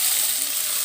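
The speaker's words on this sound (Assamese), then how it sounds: "তাৰপৰা বইল কৰি এতিয়া মই এইখিনি ভাজিম।" Boiled pasta and Maggi noodles fry in a pan with a steady, even sizzle and hiss that holds close and fairly loud throughout the short moment.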